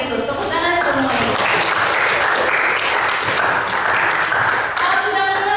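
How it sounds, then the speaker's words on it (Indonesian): Students in a class clap together during a lesson, a thick burst of applause that swells in the middle, with a teacher's voice speaking at the start and again as it ends. "Tepuk tangan semuanya."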